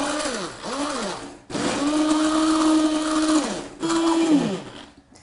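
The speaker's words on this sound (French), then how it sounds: "On va maintenant mixer ce coulis" Blender whirring through hot raspberry coulis: three loud bursts of high motor whine, the pitch climbing and holding steady, separated by brief pauses.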